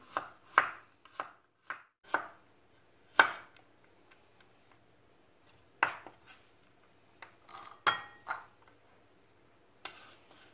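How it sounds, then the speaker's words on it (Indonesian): Knife slicing garlic cloves on a cutting board while preparing a Minang-style pepes ikan peda: a series of crisp, close chops in irregular bursts, separated by short pauses. "Kita iris lagi bawang putih."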